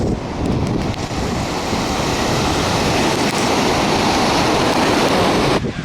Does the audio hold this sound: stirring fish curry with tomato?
no